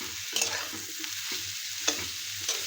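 Marinated mushrooms and browned onions sauté in a pan, a steady close sizzle punctuated by a few short scraping stirs of a spatula.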